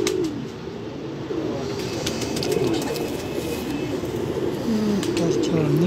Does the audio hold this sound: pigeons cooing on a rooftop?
yes